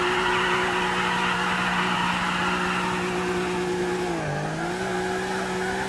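Car drifting in GTA IV, a steady loud tire squeal layered over a droning engine that dips briefly in pitch before holding on, sustained throughout with no talking.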